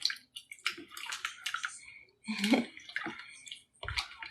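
Hands work water into fufu dough in a bowl, giving wet squelches and sloshes in irregular bursts with short quiet gaps, close and fairly loud.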